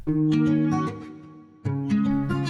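Two guitar lines play together in a melodic beat, one panned left and one nudged right with a slight delay, sounding as sustained plucked notes in two phrases with a short dip between them.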